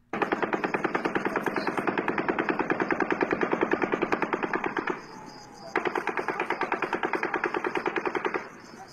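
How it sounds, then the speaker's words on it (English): Recorded automatic gunfire in two long, fast, steady bursts with a short break between them, each shot crackling and echoing at a distance, with no talking. "this was automatic gunfire"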